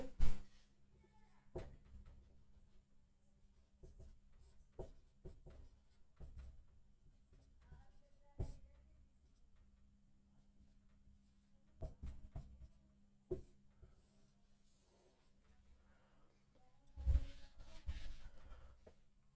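Chalk or marker strokes on a board during a Pythagorean theorem maths lesson, faint scratchy taps and short scrapes scattered irregularly, close and quiet with long near-silent gaps.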